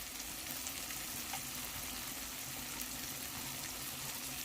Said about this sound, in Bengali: মশলাটাকে ভালো করে কষে নিতে হবে